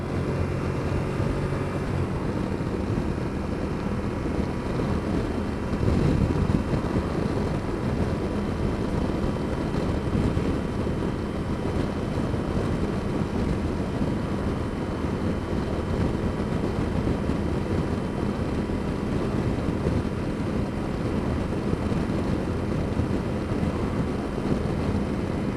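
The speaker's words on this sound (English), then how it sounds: "Nice smooth acceleration from the torquey V-twin engine." A torquey Moto Guzzi V-twin motorcycle engine accelerates smoothly uphill after a roundabout, its steady low drone blended with heavy wind rush throughout, with no talking.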